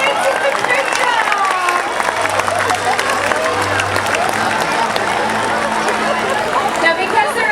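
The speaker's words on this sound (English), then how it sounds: "Let's give them a round of applause, everyone." Crowd applause and cheering fill an outdoor orca show arena at SeaWorld San Diego, a steady dense wash of clapping with scattered shouts from a large audience.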